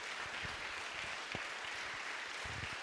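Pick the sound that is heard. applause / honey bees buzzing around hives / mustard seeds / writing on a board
applause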